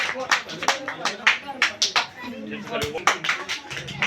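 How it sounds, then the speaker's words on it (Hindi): A crowd claps at a political party gathering at a district president's residential office, with bursts of sharp hand claps repeating unevenly under and between loud voices. "जोरदार ताली, जोरदार ताली"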